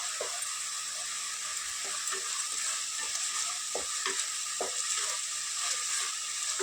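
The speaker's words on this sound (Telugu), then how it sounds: "ఇప్పుడు ఒక స్పూన్ అల్లం ఎల్లిగడ్డ పేస్ట్ ఫ్రై చేసుకున్నాము" A spoonful of ginger garlic paste fries in a pan for a rajma curry, holding a constant bright hiss of sizzling oil while a spoon stirs and taps the pan now and then, close and steady.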